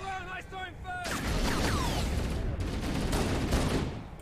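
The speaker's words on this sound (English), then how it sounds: "I accidentally shot a Marine several times" Gunfire from Halo: Combat Evolved as a Marine is shot several times: a dense, sustained volley of overlapping shots breaks in after a brief tonal passage and keeps rattling loudly to the end.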